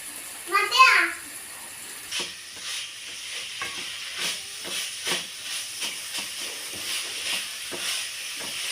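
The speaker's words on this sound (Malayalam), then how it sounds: "ക്യാബേജും കൂടെ നന്നായിട്ടൊന്ന് വഴറ്റിയെടുത്തിട്ട് ഒന്ന് വേവാനായിട്ട് വെക്കാം" Chopped cabbage sautés in a pan with tomato and oil, making a soft, close sizzle broken by repeated stirring scrapes. A voice speaks briefly at the start.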